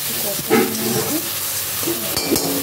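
Spices with turmeric and Kashmiri chili, along with tomato, sauté in a pan with a constant close sizzle, broken by a few scraping stirs of the spoon.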